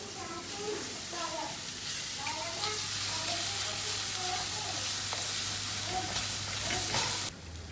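Onions sauté in a pan for a Kerala-style fish head curry, a steady sizzle under a person talking, with a low hum beneath that cuts off abruptly just before the end.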